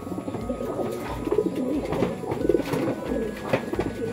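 Pigeons inside a satin pigeon loft give soft, repeated throaty coos that overlap in an uneven rhythm, close and moderately loud over a low rustling background.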